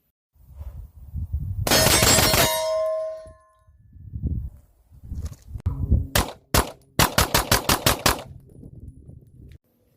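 A Canik SFX Rival 9mm pistol fires in rapid bursts, loud sharp reports with ringing steel-target clangs, first one long ringing volley, then quick strings of shots near the end.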